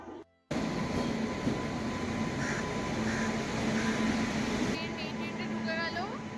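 A train pulls in at platform 5 of a railway station, a steady low rumble with a faint electrical hum under the station's ambient noise, continuous and fairly close, with some indistinct voices around.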